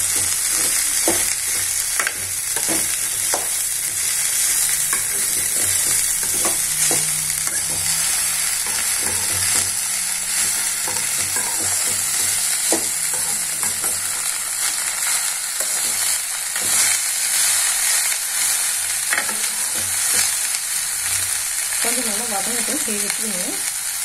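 Okra (vendakkai) fries in oil over a high flame, giving a steady, dense sizzle that runs throughout, with occasional scrapes and clinks as it is stirred in the pan; no one speaks.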